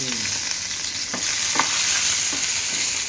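Tomato and green chillies fry in a pan for a peanut chutney, with a loud, continuous hissing sizzle and a few scraping stirs near the start and middle.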